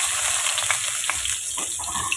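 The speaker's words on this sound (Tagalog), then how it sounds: "Magisa ta aning sibuyas ug bawang" Onion and garlic sautéing in a pan for pork leg monggo, giving a loud, dense, continuous sizzle up close, with no talk over it.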